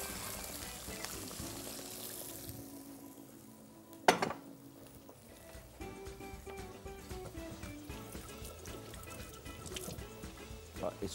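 Water is poured into a mixture of black pepper and salt in a kitchen, giving a soft running, trickling sound along with a sharp clink of a pot or utensil partway through and a low background hiss.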